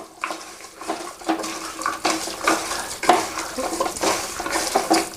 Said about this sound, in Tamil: இப்போ அப்படியே போட்டு கிண்டிட வேண்டியது.